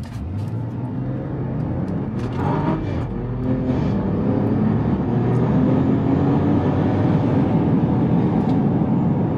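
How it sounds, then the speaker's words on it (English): A 2025 RAM 1500 Hurricane SST HO pickup accelerates hard from a standstill, its engine note rising and swelling steadily into a loud, sustained roar heard from inside the cabin, with no talking. "So let's see how it accelerates just from a standstill."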